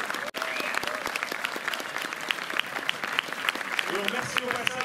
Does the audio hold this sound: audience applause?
yes